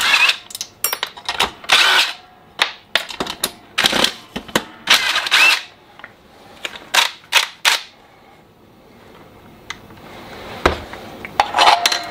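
Clamps are tightened during a joint alignment demonstration, making a series of sharp clicking and ratcheting bursts in irregular clusters with pauses, close and fairly loud.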